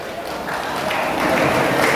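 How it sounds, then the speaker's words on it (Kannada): Guests at a wedding reception applaud the bride and groom, a broad wash of clapping that swells steadily over two seconds, with crowd voices mixed in. "ಸೊ ಅವ್ರಿಗೆ ದೊಡ್ಡ ಚಪ್ಪಾಳೆ ಬರಲಿ ನಿಮ್ಮೆಲ್ಲರ ಕಡೆಯಿಂದ"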